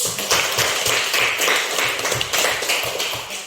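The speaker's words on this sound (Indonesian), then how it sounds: "kita tepuk tangan dulu" A classroom of students clapping in a steady rhythmic pattern, with repeated sharp claps in regular beats, fairly close and loud, with no talk over it.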